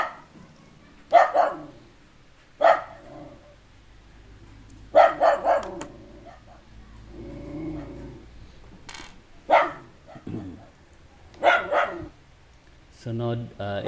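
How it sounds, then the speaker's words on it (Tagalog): A nearby dog barks repeatedly in loud single yaps spaced a second or two apart, with someone talking between the barks, set beside a Honda XRM 110 carburetor cleaning job. "Kahol ng kahol dito sa tabi ko."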